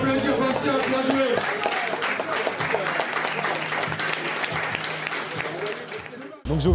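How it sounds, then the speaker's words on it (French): Crowd applause and cheering for a lifter at a regional street-lifting competition, dense clapping mixed with shouting voices and chatter, loud and close, tapering off near the end before a burst of sound. "On peut applaudir Bastien, bien joué."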